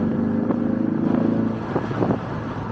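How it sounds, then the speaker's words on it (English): A 2020 Ford Mustang EcoBoost High-Performance Package engine with optional active exhaust rumbles with a deep, throaty note, revving briefly a few times over a steady idle. "This car has the optional active exhaust, which allows you to adjust that sound that you hear."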